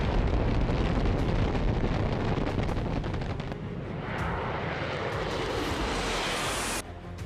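A US B-1 bomber and an F-15 fighter jet give a loud, continuous roar that holds for several seconds and then cuts away abruptly.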